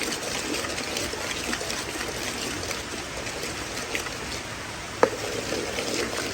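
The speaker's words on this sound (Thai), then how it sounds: "น้ำเปล่าลงครับ" Plain water pours into a cooking pot, a steady watery gush and trickle under a faint background hiss, with one sharp knock near the end and no speech.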